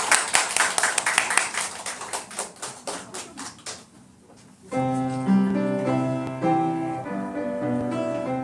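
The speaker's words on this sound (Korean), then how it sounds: "같이 박수 한번 먼저 드리겠습니다." A church congregation claps together in a burst of applause lasting about four seconds; it fades, and instrumental music with sustained tones then starts and carries on.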